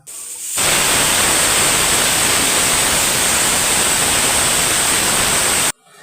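A pressure cooker of breadfruit curry releases steam in a loud, steady hiss that starts abruptly, holds for about five seconds, then cuts off sharply.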